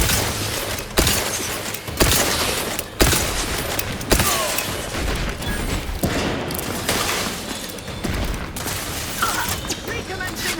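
Rapid gunfire in the sci-fi video game The Outer Worlds 2, loud bursts of shots and booms repeating roughly every second, with dense crackling in between and no speech.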